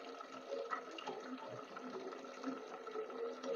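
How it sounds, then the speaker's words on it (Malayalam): Water pouring steadily into a steel tumbler, a continuous splashing stream running close and fairly loud from start to finish with no speech. "ആദ്യമായിട്ട് നമ്മൾ ഈ സ്റ്റീൽ ഡവറയിൽ നിറച്ച് വെള്ളം നിറക്കുക."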